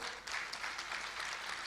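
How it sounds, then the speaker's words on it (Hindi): A seminar audience gives a short burst of steady, dense applause. The clapping sounds fairly faint and distant. "उनके लिए जोरदार तालियां"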